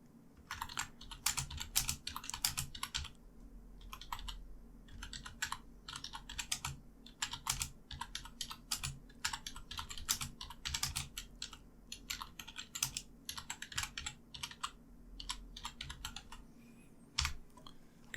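Steady computer keyboard typing, close and fairly quiet, in bursts of rapid keystrokes with short pauses over about eighteen seconds, with no voices.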